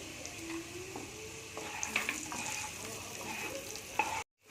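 Boiled potatoes with turmeric fry in mustard oil in a wok, a steady close sizzle with a spatula scraping and stirring through it, ending abruptly in silence near the end.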